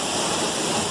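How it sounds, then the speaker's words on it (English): Rushing water of an icy stream pours over rocks in a loud, steady broadband roar, close and continuous. "I had to come and just sit here for a little bit and hear the rush of the water"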